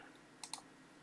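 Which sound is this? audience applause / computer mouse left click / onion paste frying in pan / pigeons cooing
computer mouse left click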